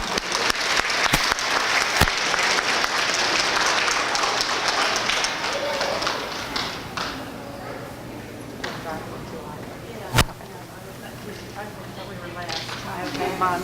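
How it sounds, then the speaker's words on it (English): Applause for a kindergarten class at a school awards ceremony, a lively burst of clapping that thins out, with voices chattering and a few sharp knocks. "So let's give Miss Whitaker's class a round of applause."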